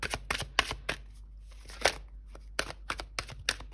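A deck of oracle cards is shuffled by hand, making a run of crisp, uneven riffling snaps and taps close by, with short pauses between bursts.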